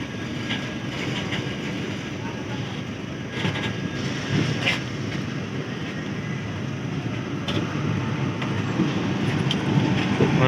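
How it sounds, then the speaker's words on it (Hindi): The Howrah–Kathgodam express rumbles steadily while pulling out of Teghra station. Heavy low rolling noise builds slightly over time, with occasional sharp rail clanks and squeaks, heard from on board. "बस 5 मिनट रुकने के बाद तेघरा से अपनी ट्रेन फिर से खुल चुकी है"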